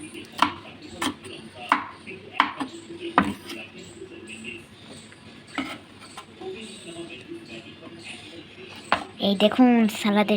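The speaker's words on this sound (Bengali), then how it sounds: "সব কিছু কাটাকুটি শেষ" A knife chops vegetables for a salad: a run of sharp, irregular chopping strikes up close at the start, then quieter scattered taps and clatter, with voices in the background.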